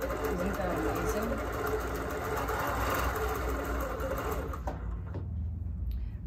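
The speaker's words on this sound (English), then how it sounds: "I'm gonna stop talking and just stitch for a moment. I'm gonna put my foot on the gas, and away I go." A Bernina sewing machine stitches fabric in a fast, continuous mechanical whir with a rapid repeating clatter. It runs loud and close, then stops abruptly near the end, leaving a few faint clicks.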